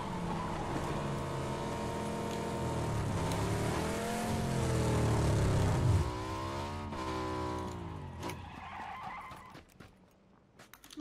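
Motorcycle engine in the video game PUBG on the Miramar map, a loud close drone that revs and shifts pitch with skidding tire noise, then drops away near the end into scattered clicks.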